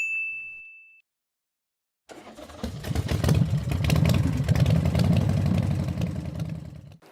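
A short bright notification bell ding rings once, then silence, followed by a mid-pitched car engine idling steadily nearby, a 2018 Honda CR-V.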